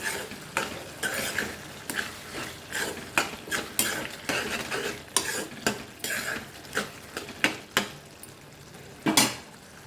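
Tomato curry simmering in a pan while a spoon stirs it, each stroke giving a scraping clack against the metal over a soft bubbling sizzle, strokes coming steadily close up with no talk.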